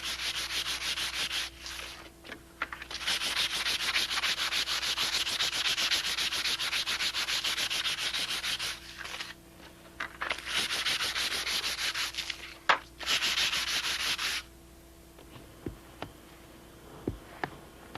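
Plywood being hand-sanded smooth on both sides to knock down high points: steady, rhythmic scratchy rubbing strokes, close and fairly loud, with a few short breaks, then quieter scattered taps and clicks at the end.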